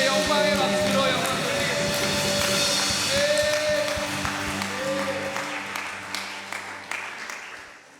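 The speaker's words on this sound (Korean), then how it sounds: "주님께 영광의 박수로 영광" A congregation at a Sunday morning service in an air force base church claps along with worship music and singing, dense clapping that stays loud before gradually thinning and fading toward the end.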